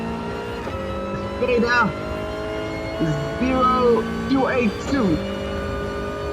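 Race cars launch at the start of a Gran Turismo race, several engines revving and rising in pitch through repeated gear changes, with a commentator talking over the sound throughout.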